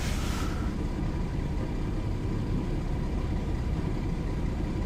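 An AMC Eagle car engine, low on transmission fluid, runs with a steady low rumble right after starting, with a brief higher whir in the first half second before settling into a continuous close idle.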